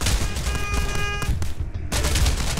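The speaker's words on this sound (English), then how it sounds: "Tommy gun." Rapid automatic fire from a Tommy gun in the video game Tower Unite, a dense, loud continuous burst that fills the clip with only a brief dip partway through.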